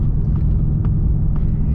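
A 2016 Mercedes-AMG GT S with an aftermarket exhaust idles close by, a deep, steady, throbbing rumble that stays loud and even for the short stretch.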